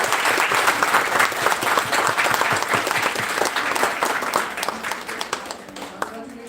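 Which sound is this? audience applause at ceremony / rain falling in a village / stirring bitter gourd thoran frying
audience applause at ceremony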